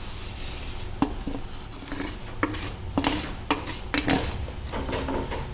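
A spoon stirs ghee-fried vermicelli simmering in milk in a pan for sweet sevaiya, with repeated clanks and scrapes against the metal over a soft sizzle.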